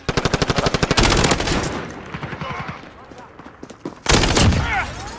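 Rapid automatic gunfire in Modern Warfare, a fast burst of evenly spaced loud shots that cuts off into quieter chatter and effects, then a second heavy burst of firing near the end.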